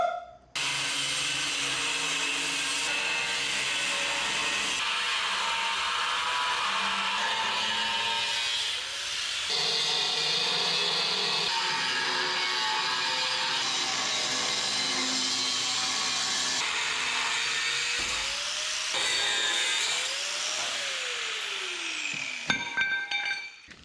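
Metal being cut on a 1963 Loadstar truck flat bed build, a long continuous loud grinding whine with shifting pitch that runs almost without a break before cutting out near the end.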